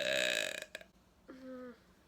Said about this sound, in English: We need less than 10 burps each.